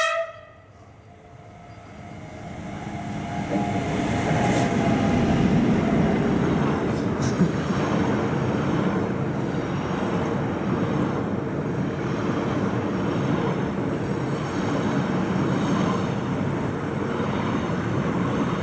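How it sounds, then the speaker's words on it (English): Riding aboard the Flåm railway train in Norway, a continuous rumble of wheels on track and carriage noise builds after a quiet start, with a brief high horn-like tone early on, steady and enveloping throughout. "we're now on the train"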